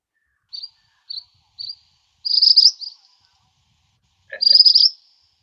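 A bird calls alone in silence: three short high chirps, then a longer trilling burst, a pause, and another rapid warbling phrase.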